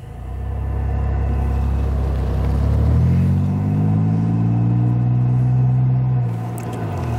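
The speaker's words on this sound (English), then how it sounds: "there's a lot of traffic here" Road traffic rumbles by nearby, with a deep engine drone swelling and shifting pitch as a vehicle accelerates past, loud and continuous throughout.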